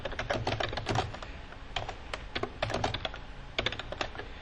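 Computer keyboard typing while notes are entered into scheduling software, with irregular bursts of close key clicks separated by short pauses.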